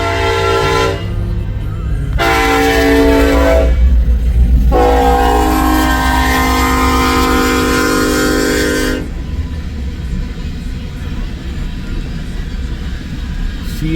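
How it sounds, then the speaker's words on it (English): Westbound empty coal train approaching in Nebraska or Iowa, its horn sounding three long chords over a heavy diesel rumble, then the rumble and rolling wagons continuing after the horn stops. "here comes the westbound empty coal drag"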